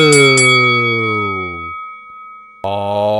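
A bell rung to open a UFC podcast segment rings out loud and close, its bright tone sustaining and fading over about a second and a half, then struck again near the end.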